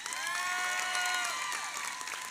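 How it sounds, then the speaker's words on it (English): Commencement crowd at a high school graduation ceremony applauding and cheering, a steady wash of clapping with whoops and shouts above it, moderately distant and sustained throughout. "let's go ahead and give them another round of applause."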